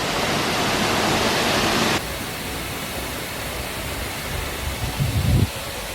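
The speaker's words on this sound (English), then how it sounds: "Little baby waterfall." A steady rush of water from a small waterfall in Costa Rica fills the first two seconds, then drops to a softer hiss with a brief low rumble near the end.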